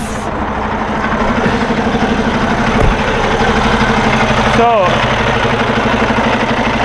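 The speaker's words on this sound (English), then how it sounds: "the engine runs fine." A Cummins X15 diesel truck engine with high crankcase pressure idles steadily up close with a continuous low rumble, while someone speaks briefly over it.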